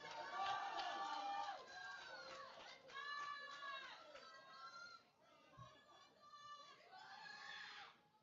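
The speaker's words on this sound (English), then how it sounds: "Big crowd for her." At a junior powerlifting meet, a crowd shouts and cheers in loud, overlapping voices during a women's national-record deadlift attempt, with rising yells carrying throughout.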